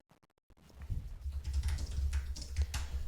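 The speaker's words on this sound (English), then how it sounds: "If I type in Docker" Typing on a computer keyboard while entering a Docker command, a steady run of quick close-up key clicks filling most of the moment after a brief quiet start.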